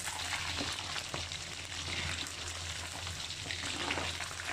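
Steady, close sizzling of chicken frying in hot oil, a continuous crackling hiss with occasional louder pops and a faint low hum underneath.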